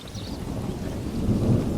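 Heavy rain pours steadily with a low rolling rumble of thunder swelling near the end, a dense stormy wash used as a cartoon story sound effect.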